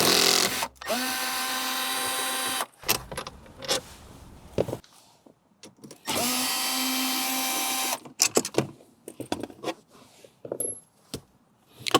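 A power drill backs out T30 Torx screws inside a Bronco, two sustained whirring bursts close up, each followed by clicks, rattles and handling knocks from the loosened parts, with no talk.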